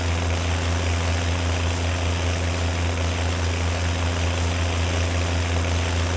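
A tractor engine in Farming Simulator 19 runs loud and steady in forestry mode, with a constant low droning rumble and a fixed hum. It carries on unbroken and close throughout, and no one speaks.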